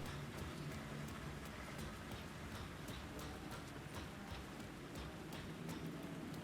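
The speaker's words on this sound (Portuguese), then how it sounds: "E tome chuva no lombo." Steady rain in the video game Alan Wake 2, a dense continuous patter with faint scattered drips, constant level throughout and no voices.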